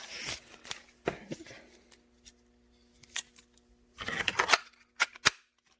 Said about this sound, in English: I'll take all the tape off of the mold.